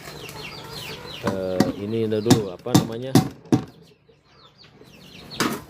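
Backyard chickens at a home farm cluck and call loudly while being given feed, with a few wing flaps, close by, and someone speaks briefly in between.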